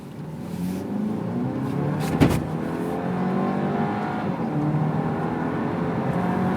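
A SEAT Leon FR engine revs hard and builds speed toward 100, a steady loud roar with a brief sharp thump partway through, heard from inside or nearby.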